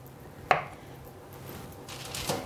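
A knife cuts through chilled cheese dough for fig biscuits, one sharp close thud of the blade hitting the board early on, then a fainter second cut near the end in a quiet kitchen.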